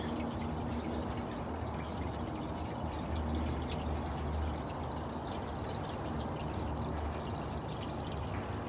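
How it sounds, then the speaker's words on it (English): Stream water ripples and trickles through leaves in an outdoor garden, a steady soft burbling wash with faint drips, continuous and moderately distant, with no voices. "Here you can see the water rippling through the leaves."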